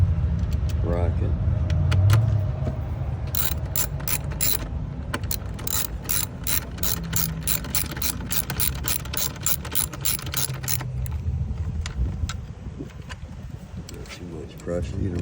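A ratchet clicks in rapid, steady bursts while tightening a 12mm coil pack bracket bolt on a 2008 Toyota 4Runner during a cylinder-four coil pack replacement, close and fairly loud, with someone talking over parts of it.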